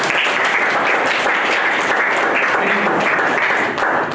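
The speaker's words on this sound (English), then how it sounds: "these are the people. Clap for them" Loud, dense clapping from a seated audience at a lecture, sustained and even for several seconds without letting up.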